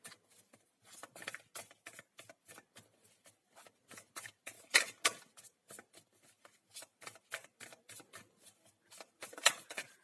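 Tarot cards being shuffled by hand, a rapid run of crisp riffling flicks and soft slaps in uneven bursts, close and clear with no talk.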